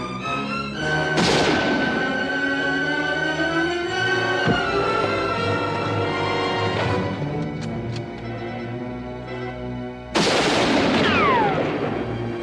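Gunfire in a Western action film scene: several sharp, loud shots ring out with echoing tails, spread over a few seconds and set against a swelling, sustained film music score.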